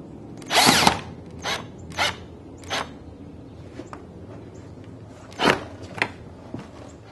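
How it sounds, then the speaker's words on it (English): Screw gun and drill driving screws into a window frame during installation, heard as several short separate whirring bursts with pauses between them, fairly close. "get the drill and screw gun right in there to get that screw"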